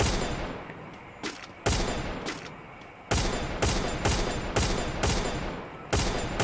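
Gunfire in the Free Fire battle game: loud, sharp shots fired in quick bursts, with several separate volleys and short pauses between them, each shot ringing out with a long tail.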